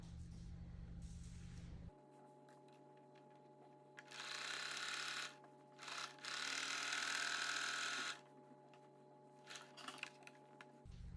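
A sewing machine stitches along the edge of a minky blanket, running in two bursts of rapid mechanical whirring after a low hum cuts out, quiet and close with no voices.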